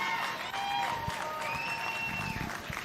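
Audience at the Cache County Fair junior livestock showcase cheering and clapping for young cattle showmen, steady crowd applause with shouts and whistles in an indoor arena.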